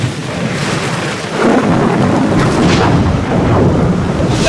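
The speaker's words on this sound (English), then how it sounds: "I hate thunder." Loud, deep thunder rumbles and cracks through an intense storm on a remote island, swelling midway and holding strong over a constant wash of rain, with no voices present.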